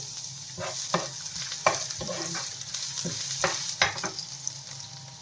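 Garlic and ginger sizzling in hot oil in a pan, with several distinct spatula scrapes and stirs cutting through a steady close frying hiss, no voices.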